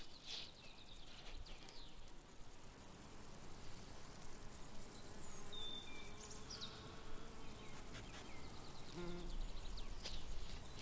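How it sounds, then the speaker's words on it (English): A rattle grasshopper buzzes and rattles in an Alpine meadow, with soft clicking and whirring bursts over a steady bed of insect chirping and faint bird calls, heard at moderate distance. "the rattled grasshopper prepares for landing"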